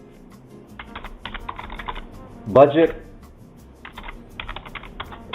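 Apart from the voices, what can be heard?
typing on a computer keyboard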